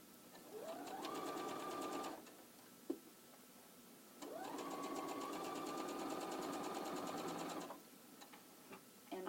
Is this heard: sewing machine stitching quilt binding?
yes